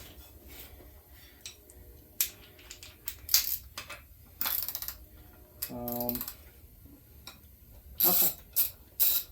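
A 17 mm socket turning the castle nut on a Mercury 9.9 HP four-stroke outboard lower unit gives scattered close metallic clicks and short ratcheting bursts, with a brief spoken word partway through.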